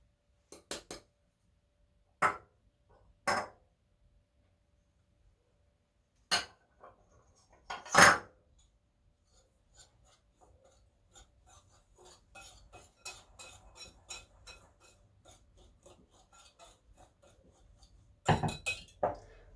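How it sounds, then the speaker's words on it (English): Dry cornbread ingredients being mixed in a bowl, heard as sparse sharp clinks and taps of a utensil against the bowl, then a run of quick light scraping and stirring ticks, close and quiet with silence between strikes. "So first thing we're going to do is mix our dry ingredients."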